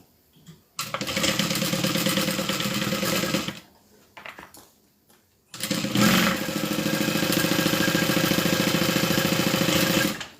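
A Juki sewing machine stitches quilted bag pieces in two long, steady runs of rapid needle chatter, close and loud, separated by a short pause with a few brief bursts.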